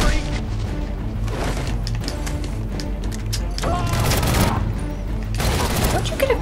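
Gunfire and combat in the video game Batman: Arkham Origins, loud bursts of shots with booms and crashes over dense game sound, with a voice speaking partway through.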